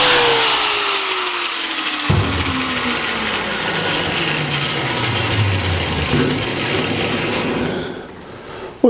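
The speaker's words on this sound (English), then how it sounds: "Let's grind it down and see what we got." An angle grinder grinds down welds on a fuel cell sump for a 1949 Chevrolet gasser, a loud continuous metallic whine that shifts pitch as the disc loads and eases, ending in a brief clack.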